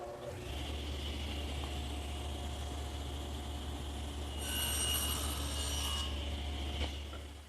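Table saw blade cutting tenon shoulders across wooden workpieces, a steady close motor drone with the pitch of the cut rising brighter toward the end, no talking.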